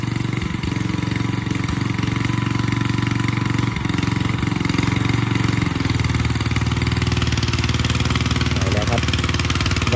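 A Daewoo diesel rail track inspection vehicle sits on the rails with its engine running at a steady idle, close and continuous throughout, with a faint voice over it.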